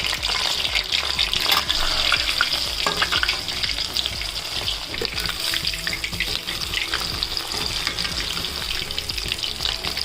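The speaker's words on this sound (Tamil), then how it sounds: "எண்ணெய் போட்டு நல்லா பொரித்து எடுத்துக்கலாம்" Chicken pieces fry in hot oil for a chicken biryani, giving a loud, dense, continuous sizzle with bubbling crackle close to the pan and no talking.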